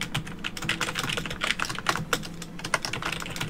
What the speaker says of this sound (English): Sorry for the loud typing.